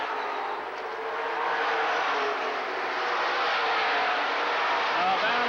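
Mid American stock cars race at LaCrosse Speedway in West Salem, Wisconsin, a steady, fairly distant roar of engines blending into a wide continuous drone, with an announcer's commentary running on top.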